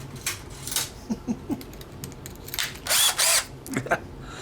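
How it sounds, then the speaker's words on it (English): A drill bores a hole into the case of a prehistoric-style portable game console, giving short bursts of whirring and grinding with a longer, louder run near the end, broken by small clicks and handling noise. "Actually, I should drill a hole there."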